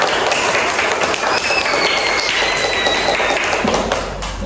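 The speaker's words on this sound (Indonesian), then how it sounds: "marilah kita tepuk tangan untuk diri kita" Students in a classroom clap for themselves at the end of a lesson: loud, dense, continuous clapping close by that thins out near the end.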